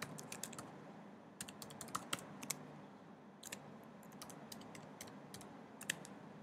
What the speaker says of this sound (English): I'm going to key in my username.